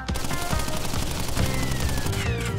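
Rapid gunfire in Crash Bandicoot N. Sane Trilogy, a steady dense stream of shots mixed with game music and effects, continuous and fairly quiet, with no talking.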